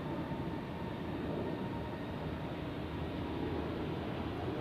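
A Pegasus Airlines passenger jet from Antalya flies past at Zurich airport, its engines a steady broad roar at moderate distance holding evenly throughout, with no talking.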